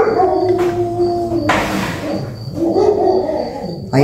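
A pet dog howls and whines indoors in a home kitchen while cauliflower cream soup is prepared, its drawn-out, wavering cries rising and falling over several seconds at close range, with kitchen clatter in between.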